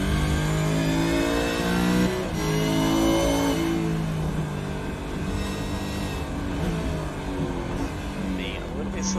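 A Ford Mustang Supercars race car in iRacing, its V8 engine revving loudly and shifting through gears on a lap at Charlotte Motor Speedway, with rising and falling pitch sweeps close up throughout.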